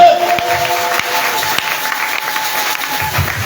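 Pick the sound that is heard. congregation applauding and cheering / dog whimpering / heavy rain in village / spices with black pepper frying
congregation applauding and cheering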